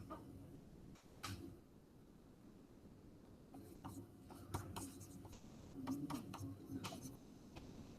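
Marker or pen writing an equation on a board, soft scratchy strokes and small taps in quick clusters, faint and close, with a voice speaking over them.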